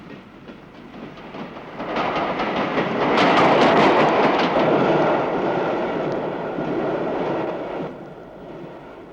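A train rolls along the rails with a loud, steady rumble that swells toward the middle and eases off near the end, with no voices over it.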